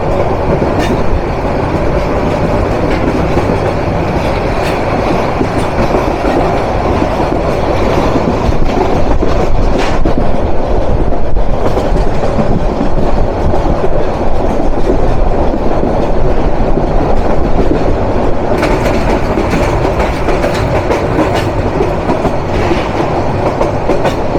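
The Mohanganj Express runs steadily on its rails at speed, with a loud, continuous rumble and clatter of the carriages throughout and no voices.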